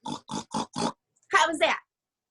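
An adult voice imitates a pig, giving four short, evenly spaced grunting oinks followed by two longer, louder snorting squeals, close and alone on a video call.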